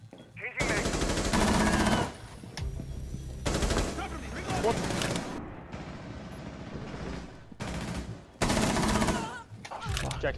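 Bursts of automatic gunfire in a tactical shooter video game, loud and close, with rapid long volleys broken by brief pauses and voices talking between them.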